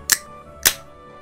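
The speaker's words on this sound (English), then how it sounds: "That's the sound of me opening a beer" A beer can is cracked open: two sharp, brief hissing pops about half a second apart, close and clear against a quiet background.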